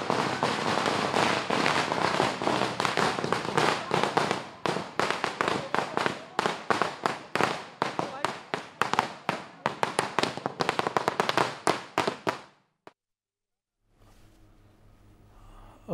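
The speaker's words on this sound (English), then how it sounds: "fireworks being burst there" Dense crackling bursts of firecrackers and fireworks at a street celebration by an Aam Aadmi Party camp, loud and rapid for about twelve seconds, then cutting to near silence with faint background hum.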